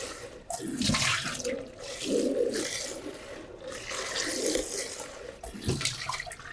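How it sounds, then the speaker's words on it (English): Tap water runs steadily into a catheter bag being rinsed at a sink, a continuous splashing wash with brief shifts in flow, close and fairly loud, with no talking. "We're gonna rinse it 3 times."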